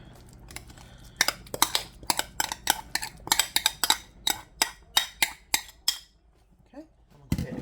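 Sour cream and cottage cheese being stirred together in a bowl in a home kitchen, a quick run of sharp utensil clinks and scrapes against the dish in an irregular rhythm, close and fairly loud, ending in a short pause.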